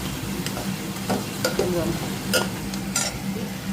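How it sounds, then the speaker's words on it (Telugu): Food being mashed and stirred in a hot pan, a soft continuous frying hiss with scattered light scrapes and taps of a spoon against the pan, close and moderately quiet. "ఇక్కడ మ్యాష్ చేసుకోవాలి."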